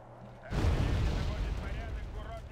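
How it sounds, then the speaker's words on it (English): Artillery strikes in the video game Wargame: Red Dragon land with a sudden loud blast, followed by a sustained heavy rumble of explosions and debris that lingers for a couple of seconds. "Artillery on the way."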